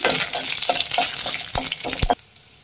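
Fennel seeds and black pepper fry in a pan over a medium flame, giving a brisk crackle with scraping stirs and a few sharp pops, then dropping to near quiet at the end.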